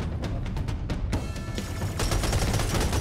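Rapid bursts of gunfire crackle through combat in the Serious Sam 4 video game, loud sharp shots in quick succession followed by a dense, sustained volley.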